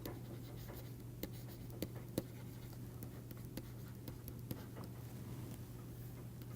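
Chalk or marker writes on a board during a mathematics lecture on the existence of a basis, giving a steady scratchy rasp broken by sharp taps, fairly close over a constant low hum, with no talk.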